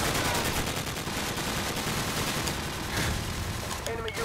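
Sustained M4 rifle fire in Call of Duty 4 on PS3, a dense, loud stream of rapid shots that never lets up, mixed with game noise.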